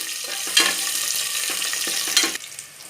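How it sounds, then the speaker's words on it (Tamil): Small shallots sautéing with salt in a pan on the stove, a steady sizzle broken by several stirring scrapes, loud and close with no talking. "இப்போ வெங்காயம் நல்லா வதங்கிடுச்சு."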